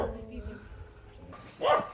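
A pet dog lets out a short, sharp bark near the end, rising over an ongoing stretch of household chatter and background noise.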